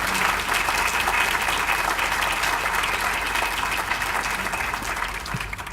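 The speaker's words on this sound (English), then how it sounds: "So please give them a round of applause." Sustained applause from an audience at a Black History Museum groundbreaking ceremony, a dense, steady clatter of many hands lasting several seconds before tapering slightly at the end.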